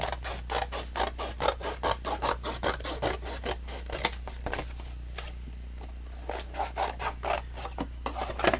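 Scissors or a blade cutting paper for a tunnel book, a steady run of short rasping snips and strokes close by, pausing briefly midway before resuming, with no talking.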